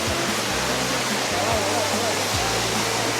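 Rushing water pours steadily from a waterfall in Indonesia, a dense, constant roar with no breaks, with faint low voices underneath.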